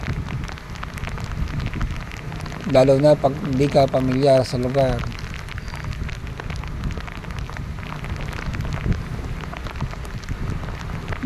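Steady heavy monsoon rain pours down throughout, loud and close, while a person speaks briefly over it.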